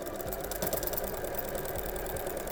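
A sewing machine stitching a Christmas Santa sock, a rapid steady mechanical whir with a regular needle rhythm, close and moderately loud, running without pause and with no voices.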